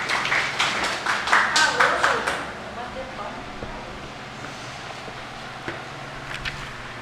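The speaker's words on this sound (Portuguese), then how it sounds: "Uma salva de palmas para a minha ajudante aqui" A short burst of hand clapping from a small group at a Sunday study class, close by, fading out after a couple of seconds into quiet room tone.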